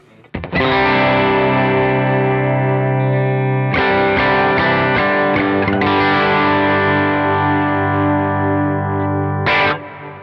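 Electric guitar plays through an RD Effects Pillar Drive V2 overdrive pedal set to a nearly clean, slightly gritty tone, with a Big Sky reverb in the stereo effects loop. Three loud, ringing chords are struck and left to sustain, with no talk.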